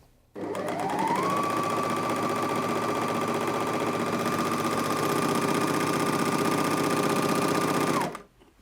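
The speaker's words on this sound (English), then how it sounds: "So I've got some cotton here. Let's go ahead and sew that." Janome MyLock 454D overlocker running on cotton fabric with a three-thread setup, one right needle and upper and lower loopers, a loud, steady rapid mechanical whir that starts abruptly, holds for about eight seconds, then stops.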